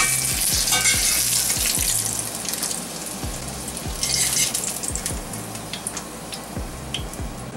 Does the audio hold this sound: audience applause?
no